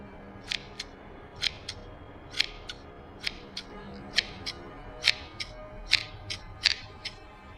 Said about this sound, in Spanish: parecía que Ricardo estaba cortando como cartón corrugado